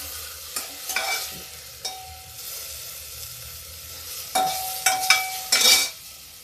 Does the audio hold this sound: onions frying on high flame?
yes